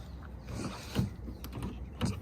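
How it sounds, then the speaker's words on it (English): Faint mechanical clicks and creaks of a worn Nissan 350Z Nismo car door handle being worked, several small clunks with quiet pauses between. "This door handle's giving out on me."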